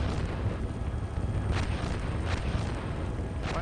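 Rumbling artillery fire in a video game, with a steady low roar and a few heavier booms standing out, dense and continuous with no talk.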